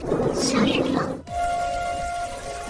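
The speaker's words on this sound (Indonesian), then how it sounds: "Namun di perjalanan tiba-tiba malah turun hujan." Steady rain falls after a brief burst of dense, noisy pattering, continuing as an even wash under a faint sustained tone, with no one speaking.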